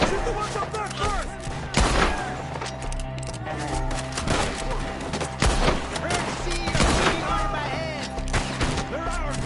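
Gunfire from Red Dead Redemption 2 in a shootout against enemies up in the trees, loud repeated shots and volleys cracking through the scene while voices shout over the fighting.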